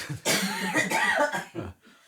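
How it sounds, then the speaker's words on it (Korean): Someone nearby clears their throat with a rough, drawn-out cough, followed by a shorter second burst. "헛기침을 해주고 계십니다"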